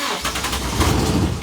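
A car engine cranks with the ignition key and catches, churning loud and close for about a second and a half with a rough, low rumble, no voices over it.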